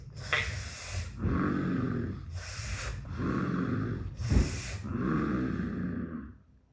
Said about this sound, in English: Okay, so breathe again. Now through your lips.